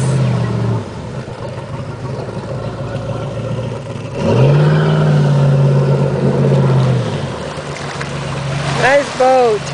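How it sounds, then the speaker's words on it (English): Motorboat running on the Snake River on a sunny day, a loud steady engine drone that surges louder midway as it passes close, with wind and water noise throughout. "Nice boat."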